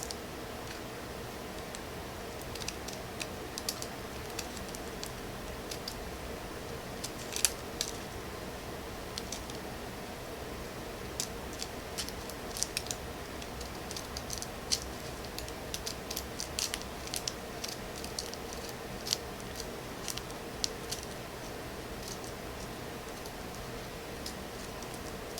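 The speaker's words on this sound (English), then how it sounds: "I'm going to go ahead and cut off this excess paper." Scissors snip off excess rolling paper from a hand-rolled backroll joint, a long series of faint, irregular small clicks and snips over a quiet room hiss.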